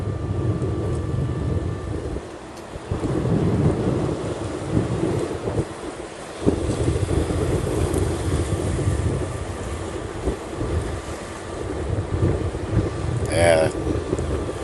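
Strong wind buffeting on an open cruise ship deck, a steady low roar that rises and falls in gusts, with a person talking over it.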